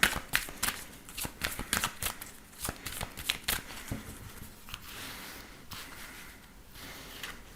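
Tarot cards are shuffled for a reading: a quick run of crisp, papery riffles and flicks, loudest in the first few seconds and then softer and steadier, close up with no talking.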